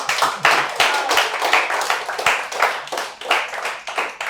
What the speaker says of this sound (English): You need to clap.